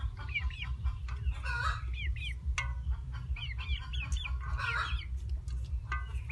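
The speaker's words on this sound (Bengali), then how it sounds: "মুরগি খাচ্ছে?" Chickens cluck and call repeatedly while being fed rice, with short bright squawks and chatter scattered over a steady low rumble of background noise, close by and alone without talk.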